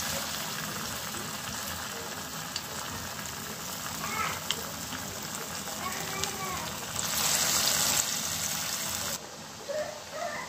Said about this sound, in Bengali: কাবাবগুলো ভাজার সময় চুলার আঁচটা মিডিয়াম টু লোতে রাখবেন